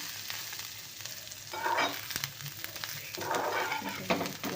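Tender tamarind leaves fry lightly in a pan for a chutney, giving a soft, close sizzle with brief bursts of louder crackling and occasional stirring clicks.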